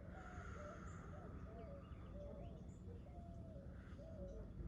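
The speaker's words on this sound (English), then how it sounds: "You can hear the birds in the background" Soft cooing of birds in the distance, repeated calls at a gentle rhythm over a quiet background hum, faint and far off.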